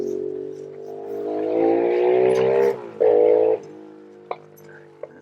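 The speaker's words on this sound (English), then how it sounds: "That sounds like somebody got a new mini bike for Christmas." A mini bike engine revving nearby outdoors: a buzzy small-engine whine rises in pitch, drops off abruptly, blips once more, then settles into a quieter idle with a couple of faint clicks.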